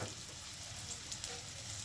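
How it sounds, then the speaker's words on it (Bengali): Chopped onions fry in a pan, a soft steady sizzle heard alone and close for a brief moment, quiet overall. "এটা দিয়ে আপনার পেঁয়াজগুলো এখন ভেজে নেব"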